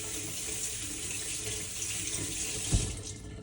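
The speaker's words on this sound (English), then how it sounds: "So I'm gonna wash some potatoes" A kitchen tap runs steadily into a sink while potatoes are washed under it, a constant close hiss of flowing water with one brief knock near the end.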